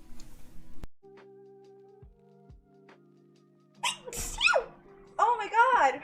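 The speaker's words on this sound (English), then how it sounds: "I'm gonna sneeze." A woman sneezes while doing makeup, a sharp burst after quieter background tones, followed by further vocal outbursts and exclamations close to the mic.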